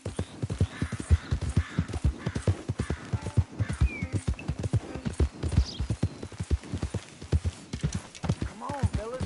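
Horse hooves clip-clop in a steady, close, loud rhythm throughout, with a horse whinnying briefly and voices talking over the hoofbeats.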